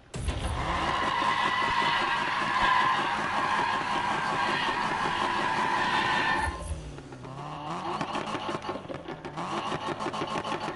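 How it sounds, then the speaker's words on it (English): A car engine revs loudly and steadily, with rapid crackling anti-lag pops, then drops off and picks back up in rougher, sputtering bursts. "Listen to all that anti-lag."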